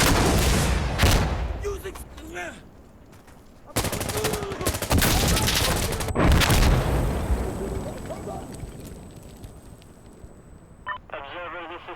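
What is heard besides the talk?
gunfire and explosions in Insurgency Sandstorm video game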